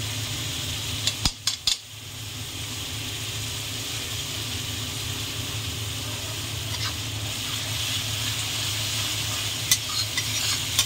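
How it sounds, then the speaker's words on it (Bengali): Spices with Kashmiri red chilli powder fry in oil for chicken curry, a continuous loud sizzle with a few clattering stirs and scrapes near the start and later. "এবার 5 মিনিট মতন বন্ধুরা মশলাটা ভালো করে কষিয়ে নেব।"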